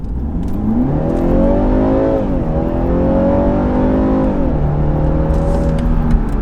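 A BMW 330i xDrive G20 engine revs up hard, its pitch climbing and dipping through gear changes, loud and close with a steady roar throughout.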